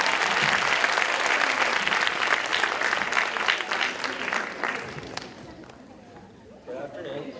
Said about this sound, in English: let's clap it up for Akshay